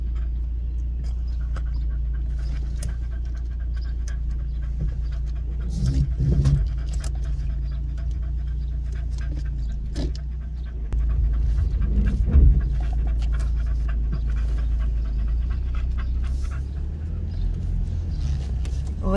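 An excited dog pants steadily inside a moving car, the quick breaths sitting over a constant low road rumble, with occasional faint rattles and thumps.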